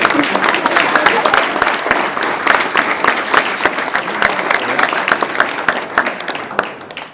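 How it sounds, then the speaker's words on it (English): People attending a city commission meeting give a big round of applause, a dense, close patter of many hands clapping with distinct sharp claps, steady and loud for the whole stretch before tapering slightly at the end. "Let's give them a big round of applause."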